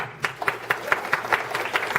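Audience members at a laughter session in Roanoke clap in a regular, fairly quick rhythm, distinct claps roughly every quarter second, moderately loud and unaccompanied by talk.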